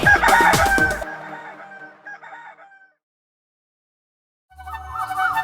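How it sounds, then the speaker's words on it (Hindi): A rooster crows in a children's song: a loud, close, drawn-out call at the start that fades into a trailing tail, then a short silence before music resumes. "कुकड़ूकू कुकड़ूकू। मुर्गा बोले"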